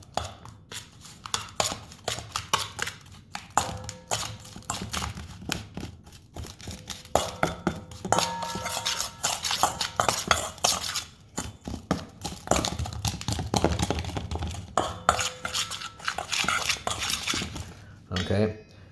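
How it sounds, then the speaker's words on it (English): Spoon clinking and scraping against a mug while dry mug cake ingredients are stirred together, a steady run of close, busy taps and scrapes lasting throughout. "So what I'm going to do is I'm going to combine these dry ingredients."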